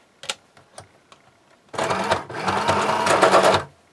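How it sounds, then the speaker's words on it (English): A few faint clicks, then a sewing machine stitching canvas runs steadily for about two seconds, a loud continuous mechanical whir of rapid stitching that stops abruptly. "Now I'm going to sew the other side."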